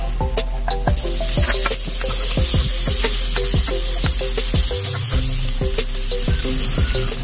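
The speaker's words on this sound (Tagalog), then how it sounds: "start na tayong mag-gisa ng ating pork steak" Pork steak pieces and onion sautéing in a hot pan, a steady loud sizzle and crackle with repeated scraping stirs throughout, no talking.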